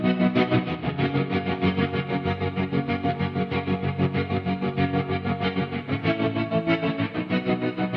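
Electric guitar played through a Logic plugin with chorus, reverb and tremolo: sustained chords with a steady rhythmic pulsing in volume, shimmering and washed, alone with no talk.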